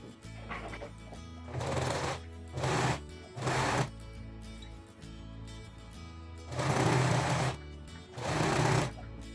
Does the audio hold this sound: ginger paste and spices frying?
no